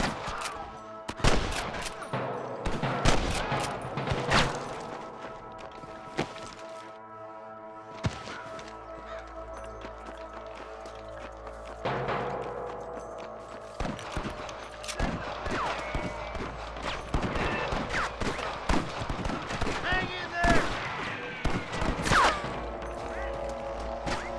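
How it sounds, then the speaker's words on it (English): Repeated bursts of gunfire in the video game Red Dead Redemption crack and rattle in irregular volleys, some rapid, mixed with thuds and mechanical clatter and occasional voices. "I can hear more gunshots."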